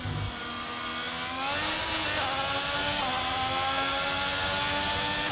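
An F1 race car in the F1 22 video game screams at high revs in fourth gear, a loud sustained engine whine that climbs steadily with no voices.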